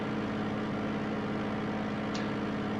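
Simulated Brewster B239 piston aircraft engine in the game IL-2 Sturmovik, a steady droning hum that stays continuous and even throughout, with no voices.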